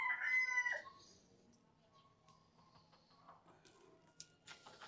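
A wild labuyo junglefowl rooster crows once, faint and a little distant, at the very start, followed by quiet outdoor ambience beside a rocky roadside backyard with a few soft chirps and rustles.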